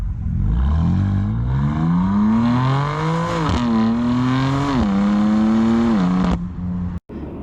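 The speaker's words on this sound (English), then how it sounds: "it's a much meaner exhaust." A BMW M4 CS exhaust rises in a long, loud rev, holding a strained, climbing pitch through several gear-like dips before cutting off sharply near the end; no one speaks.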